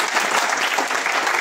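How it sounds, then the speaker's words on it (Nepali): Audience at a factory inauguration event bursting into loud, sustained applause, dense clapping filling the whole short stretch without a break. "जोरदार ताली"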